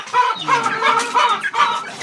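Backyard-bred chicks clucking and chirping busily as they feed on scattered food, a close, continuous flock chatter with no talking.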